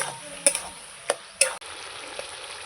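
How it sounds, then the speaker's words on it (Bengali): Meat is sautéed in a pan with turmeric and salt for a Bengali kosha mangsho, giving a low background sizzle broken by three or four sharp spatula scrapes and knocks, close and without speech. "হলুদ গুঁড়ো লবণ দিয়ে দেবো ছেড়ে ছেড়ে কষাতে থাকবো"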